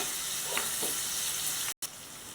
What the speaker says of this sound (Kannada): ಟೊಮೆಟೊ ಎಲ್ಲ ಚೆನ್ನಾಗಿ ಮೆತ್ತಗಾಗುವವರೆಗೂ ಫ್ರೈ ಆಗಬೇಕು